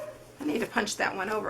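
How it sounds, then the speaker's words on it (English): A dog barking and whimpering at workers in the backyard, several short yips under nearby talk in a home. "Sorry about my dog. We have people working in our backyard and she does not like anybody in her"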